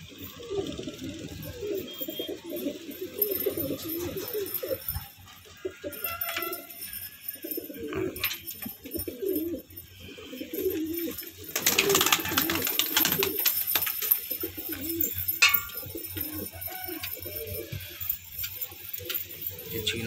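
Madrasi pigeons cooing in a loft of about 27 pairs kept for sale in Faridabad, with repeated soft coos and bird calls over steady background noise and a louder burst of activity partway through.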